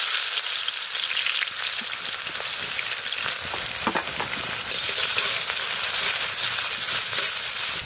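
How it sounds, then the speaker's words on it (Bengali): Sliced onions frying in hot mustard oil in a kadai, village-style cooking for a chicken curry, give a steady, loud, crackling sizzle that runs throughout with no voices. "তেল গরম হয়ে গেছে, দিয়ে দেবো পেঁয়াজ।"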